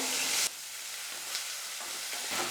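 Onion, curry leaves and garlic sizzle in hot oil in a kadai, a steady close hiss that drops slightly after the first half second, with no voices.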